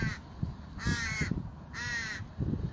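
A crow gives two loud, close caws, each a harsh nasal call lasting about half a second, separated by a short pause, with soft low rumbling background noise.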